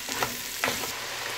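Bitter gourd aviyal vegetables and three or four green chilies sizzling in oil as they are stirred and sautéed, with a steady close fry hiss and a couple of soft scraping stirs.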